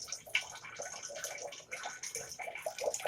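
Reject wastewater from an LG PuriCare RO water purifier trickles and splashes steadily into a drain container, a faint, continuous watery hiss with small gurgling drops.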